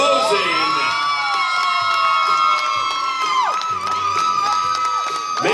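Crowd at a cosplay contest cheering and whooping for a costume on stage, loud sustained shouts and high yells from many voices, close and continuous.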